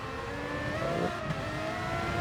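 A race car swings by during a qualifying shootout, a steady engine whine rising and falling in pitch, heard at moderate distance beneath constant engine drone.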